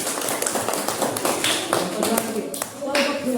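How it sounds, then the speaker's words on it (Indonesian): A classroom group claps for group one, a brisk scattered patter of hands from a small gathering, close and fairly loud, with voices mixed in. "Tepuk tangan dulu untuk kelompok satu."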